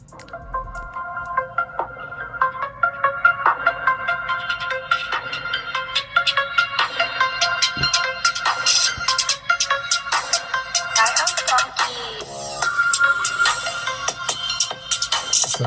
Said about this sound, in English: pull up a song on both of these devices and make sure it's the same exact song real quick